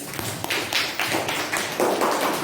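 Classroom students clap for a classmate named Kenji in short, rhythmic bursts, a patterned group clap with a near, moderately loud sound and no clear talk.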